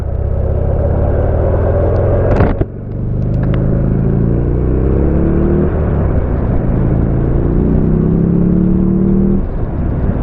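A Buell motorcycle engine rumbles loudly and steadily up close on a ride through the Hauts de France countryside, with a brief dip and shift around the middle before the drone resumes and slowly rises in pitch.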